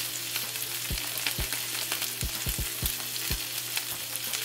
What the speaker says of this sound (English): throw the salmon in here skin side down. Move the butter a little bit. Pan is hot, and you want it to be hot so that when it gets on here, it'll sear